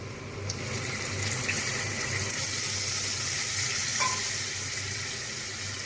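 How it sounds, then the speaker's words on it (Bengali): Water poured into a hot wok of frying potatoes and ginger for a cabbage curry, giving a steady, loud hiss and sizzle that runs unbroken for several seconds. "কড়াইতে একটু জল দিয়ে দেব।"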